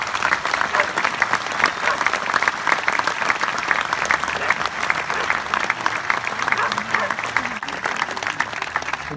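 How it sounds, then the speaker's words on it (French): An audience at a cinema festival in Gindou applauds its guests of honour, two filmmakers, with sustained, loud, dense clapping that barely varies, with faint crowd murmur mixed underneath. "je vous demande de les applaudir"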